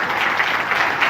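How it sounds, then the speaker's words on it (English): Brief audience applause after a question-and-answer exchange, a dense, even wash of clapping lasting about a second. "A round of applause, please."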